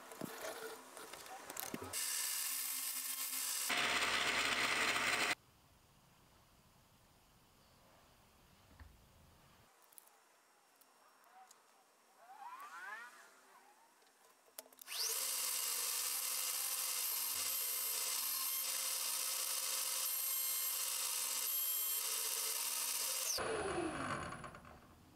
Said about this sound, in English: Using my mill, I was able to square up the ends really quickly